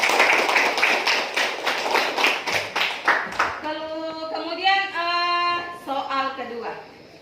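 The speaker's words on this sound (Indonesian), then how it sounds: "Tepuk tangan untuk Putri." Classroom students clap for a classmate, a quick burst of rhythmic claps lasting about three seconds before a voice begins talking.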